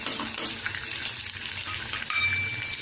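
Mustard seeds, cumin and garlic crackle and sizzle in hot oil in a kadhai for a drumstick-leaf bhaji, a bright steady fry with small pops and a brief stir, heard close and alone.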